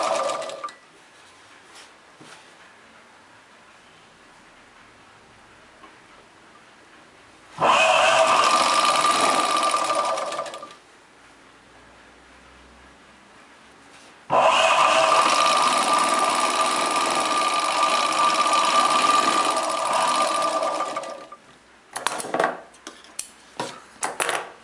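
A sewing machine stitches the folded hem of a chudidar pant in two long, loud, steady whirring runs separated by quiet pauses, with a few short bursts at the end.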